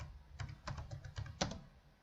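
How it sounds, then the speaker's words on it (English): Fingers type text on a computer keyboard, a short burst of a few crisp, close key clicks with one louder strike near the end, alone with no talking. "let's type the text."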